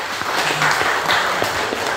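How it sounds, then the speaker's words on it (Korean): An audience at a branch founding-anniversary monthly meeting applauds an award announcement, a brief, even burst of many hands clapping, close and moderately loud, with no talk over it. "박수 한번 쳐주십시오."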